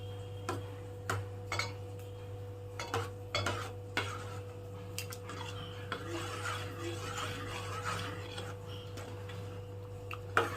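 Spoon stirring and mixing a pea and potato ragda in a pot, giving soft scraping taps at an irregular rhythm, close and fairly faint over a steady low hum.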